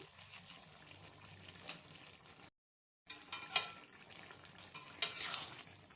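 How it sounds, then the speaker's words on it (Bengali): Spoon stirring a mixed-vegetable curry with fried crushed lentil dumplings and a little sugar in a kadai, soft scraping and light sizzling in a steady texture, with a brief silent gap midway and sharper clinks of the utensil against the pan near the end. "আবারও নাড়াচাড়া করে"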